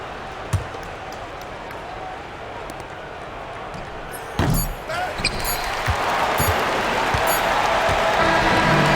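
A home crowd cheers in the NBA 2K26 basketball video game after the victory. A steady crowd roar swells louder midway and stays high, with occasional ball bounces and sharp thuds near the start and middle.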